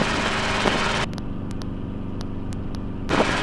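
A training helicopter flies just after takeoff, heard from inside as a steady, loud rotor and engine drone with rhythmic blade thumping and an intercom-like shift in tone through the middle.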